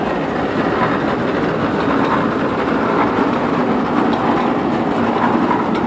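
Vintage steam engine running at a 1996 threshermen's show in Albert City, Iowa, giving a loud, steady, dense mechanical rumble and clatter that continues without pause for the whole stretch, with no voices.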